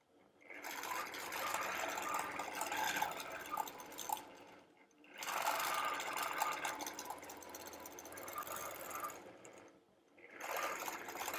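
A sewing machine stitches around a quilt medallion, adding circles and softening straight lines, in steady, fairly loud runs of motor hum that pause briefly twice between bursts of stitching, with no talk.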